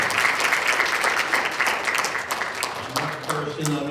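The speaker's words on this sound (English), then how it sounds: "Another round of applause." Audience applause at a school board of education meeting in a middle school, steady crowd clapping filling the whole stretch at a fairly loud level, with some voices mixed in toward the end.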